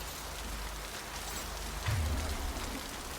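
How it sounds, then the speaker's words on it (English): Steady rain hiss in the video game Mass Effect 2 forms a soft, even wash of drops, with a brief low rumble partway through and no voices. "Is this the first time that we've had rain in Mass Effect?"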